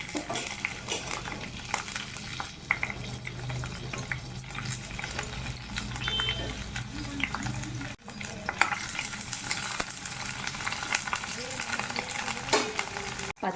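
Slit green chillies frying in oil in a pan for Guntur-style bottle gourd roti chutney, a steady close sizzle with occasional utensil stirring scrapes throughout, no voices.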